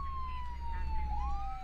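Police siren from the video game Flashing Lights, a steady wailing tone that sweeps upward near the end, heard alone over a low engine rumble.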